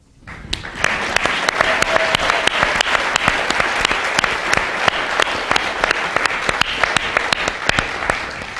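An audience at a public talk on inclusive cities bursts into sustained applause. Dense clapping builds quickly and holds steady for several seconds, loud and continuous, with no speech over it.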